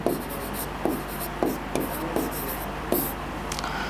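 Writing on a board during a basic math lecture: a series of short scratchy strokes in a loose rhythm, each a brief burst over a steady room hum.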